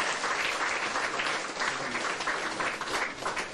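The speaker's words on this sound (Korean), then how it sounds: "축하와 경애의 박수 부탁드립니다" A crowd gives sustained, dense applause at the opening ceremony of a dermatology clinic, a loud and steady wash of many hands clapping for several seconds with no talking over it.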